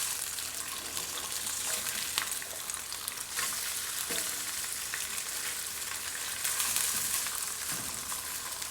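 Bologna slices fry in a hot pan with a steady, loud sizzle that stays dense and unbroken, and a few faint clicks and scrapes from flipping come through.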